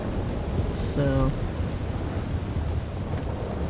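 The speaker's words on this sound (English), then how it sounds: "atmospheric, mood-setting rain in this chapter" Steady rain from a thunderstorm in the game Red Dead Redemption 2, a dense low rumble of thunder under constant downpour, with one brief voice and a short tonal chime near the start.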